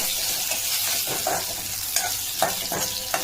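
Dal vegetables fry in hot oil with bay leaf and asafoetida, a steady broad sizzle with occasional soft stirring scrapes, close and continuous without any talking.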